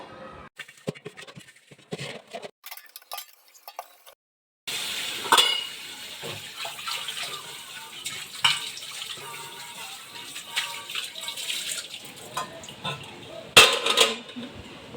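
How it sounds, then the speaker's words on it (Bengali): Dishes and tea utensils being washed at a basin clink and clatter up close over running water, with quiet gaps early on and a few louder knocks of metal pots. "ডাল ফুটতে ফুটতে আমি এখন বাসন ধুয়ে নিই"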